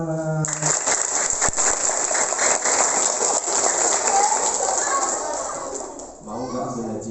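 Children clap their hands together in a dense, steady burst at a school Maulid Nabi celebration, with a voice speaking over it near the start and end.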